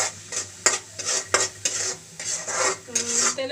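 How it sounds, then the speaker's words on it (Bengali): Spices sauté in a pan for a cabbage and egg dish, with a spatula scraping and clinking against the metal in quick strokes over a soft sizzle, close and fairly loud. "মশলাটা একটু কষিয়ে নিব।"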